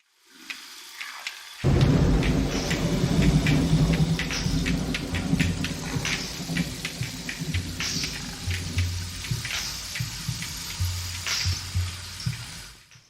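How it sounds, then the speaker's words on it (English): Thunderstorm sounds made with Bronze Age instruments. A quiet opening gives way to a sudden loud rumbling roll, followed by a steady rain-like patter and repeated sharp crackling hits that fade toward the end, with no voices. "hearing like how they're able to produce the sounds of a thunderstorm"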